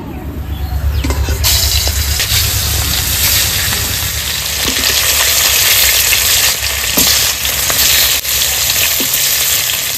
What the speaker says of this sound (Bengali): তো মাছ ভাজার জন্য তেল দিয়ে দেবো কড়াইতে।